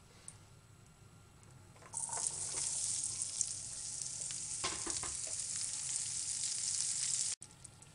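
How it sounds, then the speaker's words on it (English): Onions stir-fried in a pan for a whale-meat beef stew sound fairly faint at first, then a loud sizzle bursts in and carries on steadily with stirring scrapes until it cuts off abruptly near the end. "We'll stir fry them a little before we add them to the sauce. First, I'll do the onions."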